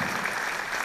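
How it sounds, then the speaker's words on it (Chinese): Audience clapping at an indoor product presentation for air-pollution face masks: dense, continuous applause from many hands, close and steady for under a second, with no talking. "这位小姐先拍手的"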